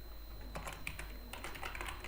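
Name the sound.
typing code on a computer keyboard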